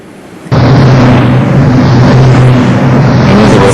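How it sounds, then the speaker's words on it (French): A steady, loud broadband whoosh with a low droning hum begins abruptly and holds constant, like a large wind turbine heard up close. "Ça, c'est le bruit d'une éolienne."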